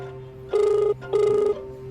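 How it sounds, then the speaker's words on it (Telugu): A telephone ringtone sounds nearby, two clear electronic tonal bursts about half a second each separated by a short pause, with no talk over it. "రింగ్ అవుతుంది చూడు."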